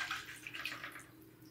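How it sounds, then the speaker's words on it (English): Watercolor paintbrush swished and rinsed in a water container, a short faint burst of close splashing and trickling that tapers off within a second and a half. "Now I want to rinse my brush off."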